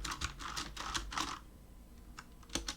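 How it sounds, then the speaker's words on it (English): Keys on a computer keyboard are pressed in a quick close-up burst of several clicky taps, then a short pause before a couple more presses, quiet and alone. "Just press every single button on the keyboard."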